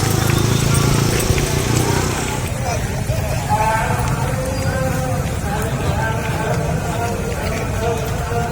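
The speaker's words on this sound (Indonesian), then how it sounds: "para raja ini naik kuda" Horses in a parade procession in Aceh Tenggara, ridden by kings in a Tanah Alas tradition, with steady hoof clatter and crowd and street noise throughout, under someone talking at the start.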